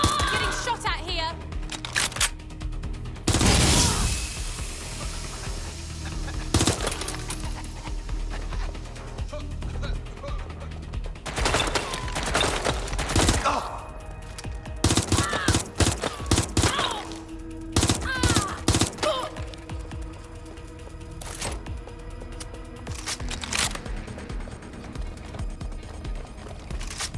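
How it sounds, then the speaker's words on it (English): Gunfire in the video game Watch Dogs Legion crackles in loud, irregular bursts and single cracks over a busy game soundscape, with voices shouting between shots. "I'm getting shot at here!"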